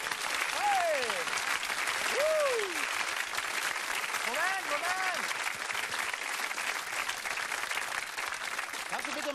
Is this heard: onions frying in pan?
no